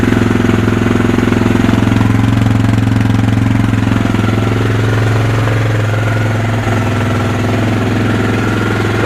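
A Kawasaki Lakota's engine idles loudly and steadily throughout, its even mechanical thrum and rapid knocking pulse holding close to the listener with no pauses.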